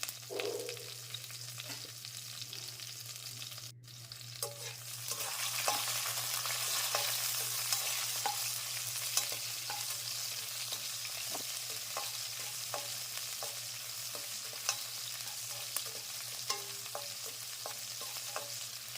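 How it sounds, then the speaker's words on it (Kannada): Green chillies and black peppercorns frying in hot oil for khara pongal, a steady close sizzle with occasional sharp pops and spoon stirring throughout, no voices. "ಹಸಿಮೆಣಸಿನ್ಕಾಯಿ ಹಾಕಿ ಎಣ್ಣೆಯಲ್ಲಿ ಹುರ್ಕೊಳ್ಳೋಣ"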